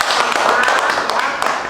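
Children clap together at the end of a school activity, a busy patter of claps with a few sharper slaps standing out, while voices carry on underneath.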